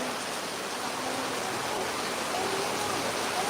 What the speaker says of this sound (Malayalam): അടി അടിപൊളി മഴ